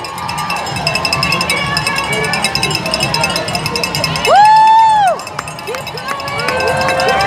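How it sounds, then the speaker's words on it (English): Spectators line the 5th Avenue stretch of the New York City Marathon, their crowd noise rising steadily as runners pass. A loud whistle-like blast cuts through midway, and voices are heard. "We have lots of cheering on this side of the course."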